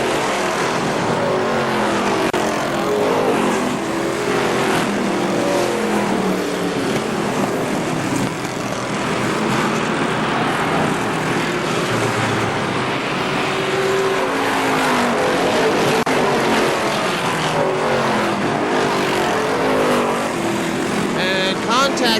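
Race cars roaring around an oval at KilKare Speedway, a dense continuous engine din with cars passing close, while an announcer calls the race over the noise throughout.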